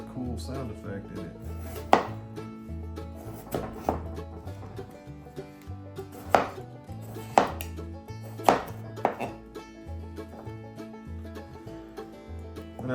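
A knife chops potatoes on a cutting board in a country kitchen while a mountain breakfast is being prepared, giving a series of sharp, close knocks at an uneven rhythm over steady low background tones.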